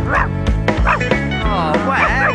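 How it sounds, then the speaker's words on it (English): A dog barks in repeated bursts, about five bow-wows in a rhythmic pattern over a children's song, loud and close. "He barks all day and night."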